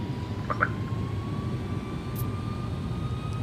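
Airbus A300 jet engines in a flight simulator game spool up for takeoff, giving a steady, even roar with a faint whine rising slowly over it, with no talking.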